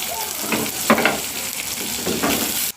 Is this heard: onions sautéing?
yes